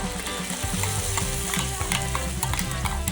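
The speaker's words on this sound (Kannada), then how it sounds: "ಈ ಟೈಮಲ್ಲಿ ನಾನು ಮಸಾಲೆ ರುಬ್ಕೊಂಡ್ಬಂದಿದ್ನಲ್ಲ ಅದನ್ನೇ ಇವಾಗ ಇದರೊಳಗಡೆ ಸೇರಿಸ್ಕೊಳ್ತಾ ಇದ್ದೀನಿ" Ground masala paste is stirred into radish sambar in hot oil, bringing close, busy sizzling with rhythmic scraping strokes of a spoon against the pot.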